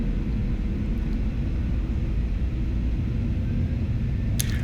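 Heavy, steady engine rumble from a Delta Boeing 737-900 rolling down the runway for takeoff in Atlanta, a continuous low roar heard from inside the cabin with a brief higher hiss near the end.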